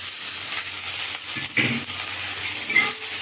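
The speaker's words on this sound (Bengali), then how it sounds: "আদা রসুনটা ভাজা হয়ে গেছে টমেটো কুচিটা দিয়ে দেবো" Chopped tomato goes into ginger and garlic already frying in a pan. A steady sizzle rises with stirring scrapes and a couple of brief clinks, close and continuous with no talk.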